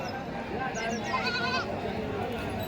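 Goats bleat at a livestock market for native and Kathiawadi goats, a few wavering calls over crowd chatter and a voice speaking nearby.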